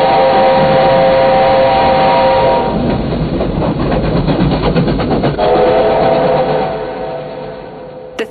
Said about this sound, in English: The 3801 is Australia's most widely travelled steam locomotive